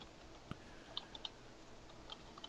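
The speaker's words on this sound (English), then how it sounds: "You can hear the typing." Keys clicking on a computer keyboard in sparse, irregular taps, quiet and close, with no talking.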